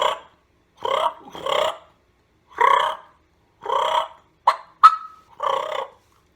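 Aggressive, fighting-style turkey purring imitated with a mouth diaphragm call: short, raspy rolling bursts in an uneven series of about seven, close and loud against silence, with one sharp squeaky note among them.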